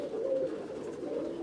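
A male Sabja tumbler pigeon from Edenur lineage, about seven to eight years old, coos in a low, steady, throaty hum lasting throughout, close and fairly loud with two swelling phrases.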